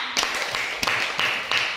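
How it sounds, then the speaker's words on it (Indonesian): A classroom of students clapping for a classmate in rhythmic bursts of sharp, broadband claps a few beats apart, fairly close and steady, with a hiss of room noise between them. "Tepuk tangan dulu untuk temannya"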